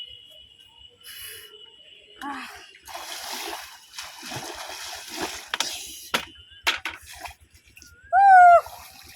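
Someone swimming in water, fishing for rui, makes scattered, uneven splashes at close range, mixed with voices and a brief high whistling tone near the end.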